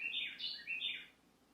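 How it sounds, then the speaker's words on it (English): Birds outside an apartment give a few quick, high chirping calls in two short bursts, faint and a little distant, with no other sound around them. "there are birds that live outside my apartment"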